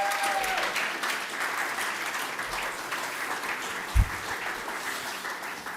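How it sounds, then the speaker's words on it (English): Audience applause at an awards ceremony, steady clapping from a seated crowd filling the room throughout, with one brief thump partway through. "Please give a round of applause to Alex Whittles"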